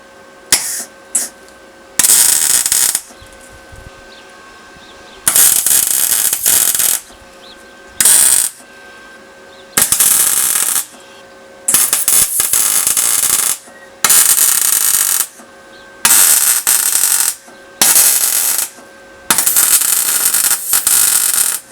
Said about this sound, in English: So let's get welding.